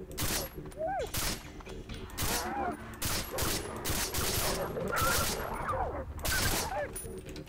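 Rapid gunfire from shooting dingoes in Far Cry 3, several bursts of shots spread across the clip, with animal cries and game noise mixed in.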